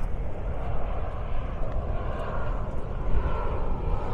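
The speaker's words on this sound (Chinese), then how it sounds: "给大家近距离看一下飞机" An airplane flies low overhead near the Iona Beach jetty by Richmond's airport, a broad steady jet roar that swells slightly and stays loud throughout.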